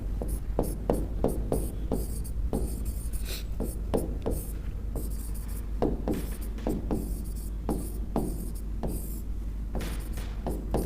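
Chalk or pen taps and scrapes across a board or paper in a run of short, rhythmic strokes, close and fairly loud over a constant low hum.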